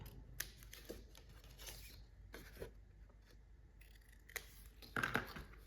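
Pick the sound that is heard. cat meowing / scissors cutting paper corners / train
scissors cutting paper corners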